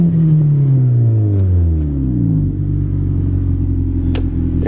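Engine of a 1990 Honda car while driving, a loud, steady close rumble whose tone slides downward as it settles into a constant drone, with a couple of faint clicks near the end.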